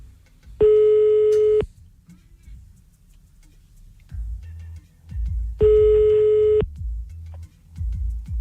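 Telephone ringing tone heard through a handset while a call is placed, two evenly spaced one-second electronic beeps with a quiet background between them.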